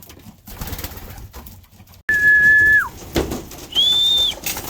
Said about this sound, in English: I need to go bring these birds in because I think they are getting close to wanting to come in